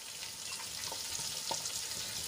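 Chopped onions frying in hot oil with a spice paste, a steady broad sizzle held at even loudness throughout with a few faint stirring taps, no talking.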